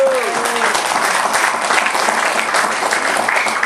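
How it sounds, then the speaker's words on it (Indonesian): Applause from an audience at an Indonesian trade union congress session, steady continuous clapping filling the whole stretch, fairly loud and dense, with some overlapping voices and cheering underneath. "kasih aplaus dulu"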